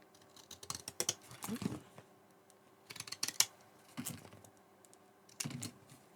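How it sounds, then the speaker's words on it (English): Crisp snipping and crunching of scissors cutting through card for a shirt-shaped card, in several short bursts separated by brief pauses, close up and fairly quiet. "Always give yourself plenty of card for the scissors to hold on to."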